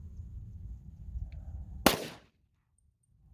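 A single sharp gunshot from a Glock 33 firing .357 SIG Winchester Ranger T-Series 125-grain rounds, a loud crack with a short decay over low outdoor rumble, followed by near silence.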